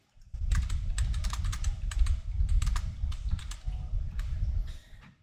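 Quick bursts of clicking on a computer keyboard as card descriptions are typed in, close and clear with short pauses between runs of keystrokes.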